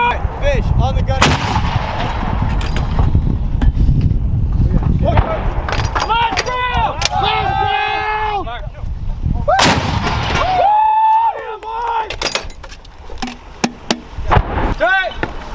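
M119A3 howitzers firing at a training range give several loud, sharp booms spaced through the stretch, with shouting and excited voices between and over the shots.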